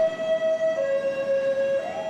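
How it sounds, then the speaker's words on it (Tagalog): An ambulance siren as it exits a hospital basement cordoned off by police, followed by an SUV: a steady wailing tone that holds loud and close, then begins to rise in pitch near the end, with faint road rumble beneath. "Lumabas ang isang ambulansya na sinundan ng isang SUV."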